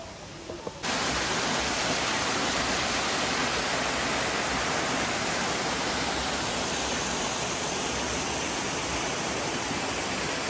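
A waterfall in a forest of Similipal, Odisha, roars continuously as a dense, loud, close rush of falling water that comes in abruptly and holds steady.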